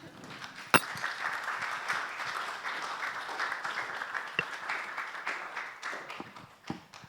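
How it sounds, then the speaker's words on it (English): An audience at an international art symposium applauds, a moderate, fairly distant patter of clapping with a few sharper knocks and clanks scattered through it. "So first an applause, please."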